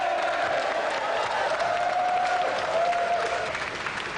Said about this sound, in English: And a round of applause again for our champion